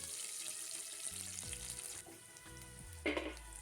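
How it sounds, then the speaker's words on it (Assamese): Chopped onions and two green chilies fry in oil in a pan, giving a soft, steady sizzle with a few low stirring knocks and a brief louder scrape near the end, faint and close, without speech. "ইয়াতে পিঁয়াজ, কাটি থোৱা পিঁয়াজো দি দিছোঁ তেলতে, লগতে জলকীয়া দুটা দি দিলোঁ।"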